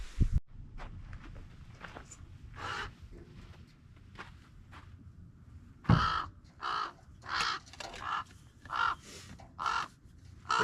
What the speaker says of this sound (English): Crazy crow.